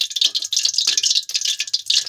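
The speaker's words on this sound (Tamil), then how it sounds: "கொஞ்சம் தண்ணி இருந்துருச்சு போல், சடச்சடன்னு கேட்குதா?" Cooking oil crackles and spits steadily in a frying pan where a little water got in, a close, bright continuous sizzle with quick pops across the whole stretch.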